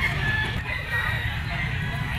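A yellow-legged bull stag gamecock of Kelso bloodline crows and clucks nearby, loud and raspy over a brief stretch of farmyard background.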